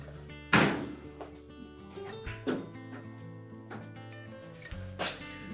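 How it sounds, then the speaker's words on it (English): A Whirlpool range oven door is closed during an oven glass replacement, giving a few soft, dull thunks spread out over steady background music. "as you close the door, it should come to a stop right about here"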